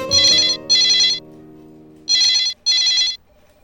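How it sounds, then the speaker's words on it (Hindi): A telephone rings in two pairs of short electronic trill bursts, with a pause between pairs, loud and close, over a fading low musical tone. "मैडम सर आपके लिए फोन है।"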